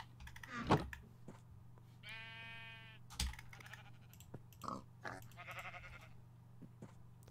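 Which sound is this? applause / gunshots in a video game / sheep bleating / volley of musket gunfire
sheep bleating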